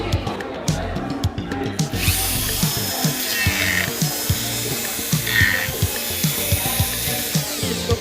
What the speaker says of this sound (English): This is the Dremel, and it's used to either sand, cut, or smoothen up wood, or metal.